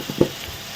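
Tomatoes frying in a pan as a spoon stirs them, with a soft sizzle and a couple of brief scraping strokes, close and fairly quiet.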